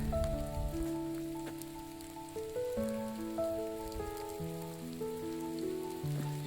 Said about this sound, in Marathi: आणि पाऊस सुद्धा चालू आहे आज.